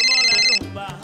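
A telephone rings with a bright electronic warble, one loud close ring that cuts off abruptly and is followed by brief muffled sounds.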